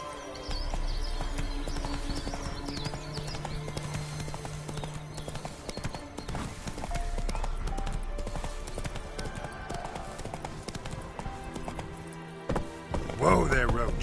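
Roach the horse gallops in The Witcher 3 video game, with steady clip-clop hoofbeats running through the whole stretch over a layer of game music and ambience, ending in a louder burst of movement.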